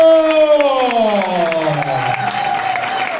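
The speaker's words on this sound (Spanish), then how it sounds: "¡Bravo! ¡Aplauso!" Applause and cheering from an audience at a Galician folk performance, a dense continuous wash of clapping with a sung or sustained vocal tone gliding downward over it, loud and close throughout.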